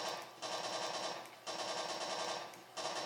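A P90 submachine gun in the Urban Terror shooter fires in rapid sustained bursts, three dense rattling strings of shots separated by brief pauses, loud and close with no talk.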